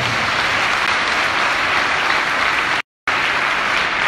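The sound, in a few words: audience applause at a conference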